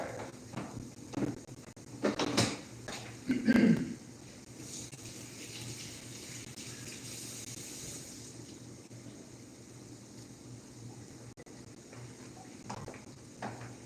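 Cilantro rinsed under running kitchen tap water, a steady moderate splash of water over a sink with a few brief louder bursts early on, then a continuous even flow with no talking.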